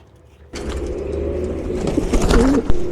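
Racing pigeons arrive home at a loft, with soft cooing and a sudden rustling burst of movement, close and fairly loud, plus a sharp knock near the end.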